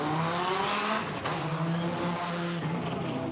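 An Audi five-cylinder rally car pulls away from the start line on the Goodwood Festival of Speed rally stage, its engine note rising and warbling loudly throughout the short stretch with a brief shift mid-way.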